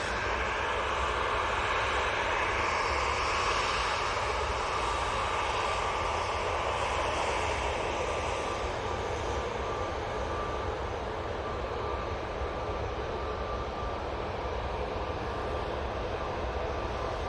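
A Ryanair airliner taxis at Manchester Airport, its engines giving a steady, continuous whining roar with a thin sustained tone that holds evenly throughout, with no voices.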